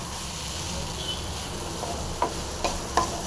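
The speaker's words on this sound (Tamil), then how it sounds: "அப்படியே க்ளீனாக கலக்கிங்க கலக்கி இறக்கிடலாம் நல்லா ஃப்ரை ஆகிடுச்சு" An eggplant and horse gram leaf stir-fry is stirred in a pan, with a low, soft sizzle under a few distinct spatula taps and clicks toward the end.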